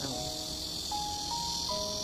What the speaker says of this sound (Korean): 매미 소리 쨍쨍이네요